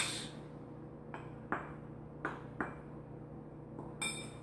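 A utensil clinks against a bowl while salt and sugar are stirred into jalapeño cheddar biscuit dough ingredients, producing a few sparse, quiet taps over a faint steady hum with no talking.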